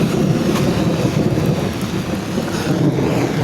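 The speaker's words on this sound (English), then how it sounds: "the rain here has been raining for the past, I could say 5 hours" Heavy tropical rainfall in Solwezi, Zambia, a dense continuous roar of rain close by with a broad thunder rumble underneath, loud and steady throughout without talk.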